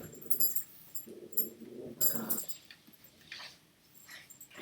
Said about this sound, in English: don't know if you can hear my dog. She's chewing the shit out of something over here.